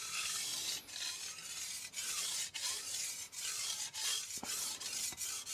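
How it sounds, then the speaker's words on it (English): A Kitory Chinese cleaver-style chef knife is drawn repeatedly across a sharpening stone, giving a series of soft rasping strokes broken by brief pauses, close and fairly quiet, with no talk. "It's hard to sharpen something like this."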